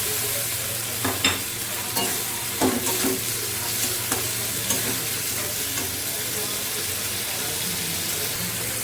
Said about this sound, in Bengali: এবার দিয়ে দিচ্ছি আমি টমেটো কুচি।